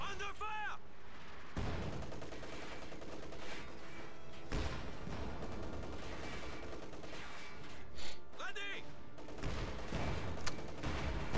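An artillery barrage and gunfire in a wartime video game, with repeated booming blasts and crackling shots that build into a dense, continuous rumble, heard at moderate level against faint background chatter.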